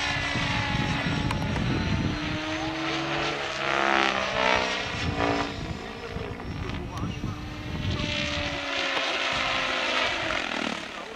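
A Compass 7 HV model helicopter engine drones loudly with a buzzing, rising and falling whine, with a faulty speed controller, while a voice talks briefly in German over it.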